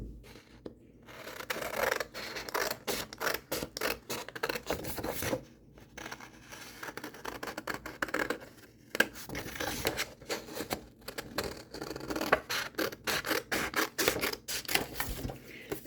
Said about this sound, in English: I got sharp scissors.